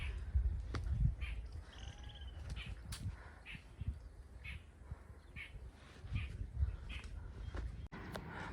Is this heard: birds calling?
yes